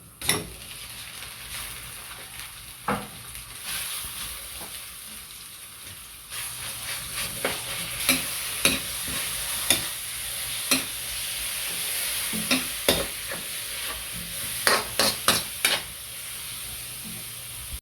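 Ground meat fries with onion and garlic in a pan, giving a steady, rain-like sizzle broken by repeated sharp scrapes and knocks of a spoon stirring, with the frying growing louder partway through.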